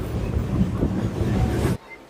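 A passenger train on the Kolkata to Digha line runs past a railway cabin, making a loud, continuous rumble and rattle that cuts off abruptly near the end to a much quieter background.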